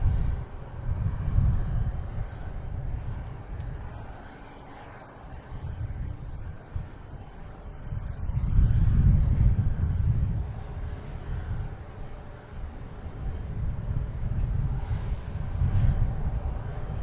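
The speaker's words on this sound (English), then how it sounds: "A340 coming in." An Airbus A340 airliner lands on runway 27 at Boston Logan Airport. Its distant jet roar swells and fades in broad rumbling waves under outdoor wind noise.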